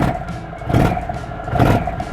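Air-cooled big V-twin cruiser engine, an Indian Thunder Stroke or Harley Milwaukee-Eight, idles with a loping beat, then the throttle blips open and shut twice in about two seconds, each swelling into a coarse, throaty surge before dropping back.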